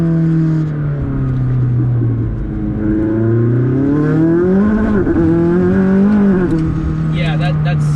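A DME-tuned McLaren 600LT sports car powers through a corner, its engine note droning and then climbing in a rising, wavering howl as it accelerates, loud and close from inside the cabin, with a person talking over it.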